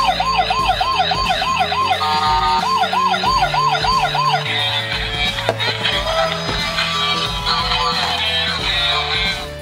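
Loud wailing toy police car siren sweeping up and down in two bursts, then electronic toy music with beeps, close and shrill.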